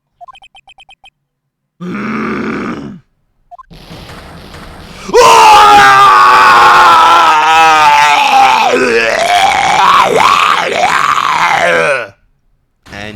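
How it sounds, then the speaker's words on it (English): A character's long, loud, wavering scream in the Phoenix Wright: Ace Attorney courtroom game, preceded by short game blips and a brief grunt, then cutting off abruptly. "Oh, he heard Von Karma's scream."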